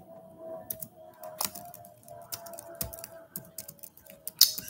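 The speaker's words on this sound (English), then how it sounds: "I'm also typing and I'm speaking at the same time." Irregular clicks of a computer keyboard being typed on, quick bursts of keystrokes at close range, fairly quiet, with a steady low hum underneath and no talk.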